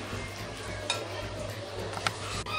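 A spoon stirs cake batter round a bowl for a no-oven homemade cake, giving a soft, continuous wet scraping with a couple of light clinks against the side, close by and without speech.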